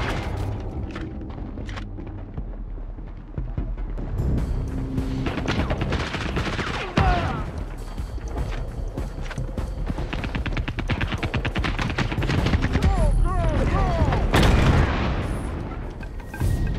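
Rapid gunfire crackles through a CrossfireX campaign firefight, dense bursts of automatic shots and sharp cracks layered with booms, continuous and close, with no talk.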